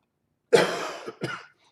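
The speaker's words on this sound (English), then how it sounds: "When you start coughing during a warm-up, hang on." Two short, sharp coughs close to the mic, the second briefer than the first, with silence on either side.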